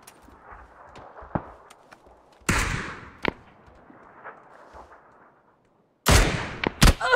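Gunfire in a PUBG squad match near a bridge: a loud sharp shot, then a smaller crack, a lull of faint game ambience, and finally a close burst of two or three heavy shots at the end.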